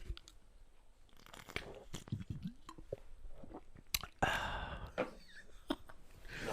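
Close, wet crunching and chewing sounds of cucumbers and pickles come in irregular bites, with soft mouth noises and some muffled talk in between.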